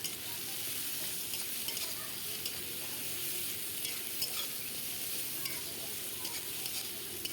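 Garlic paste stir-frying in a pan for a Bengali egg curry, a steady dense sizzle that stays even and close throughout, with faint scraping as it is stirred.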